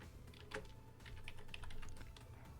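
An email address being typed on a computer keyboard, quick quiet key clicks in short uneven runs, faint and close, with no talking.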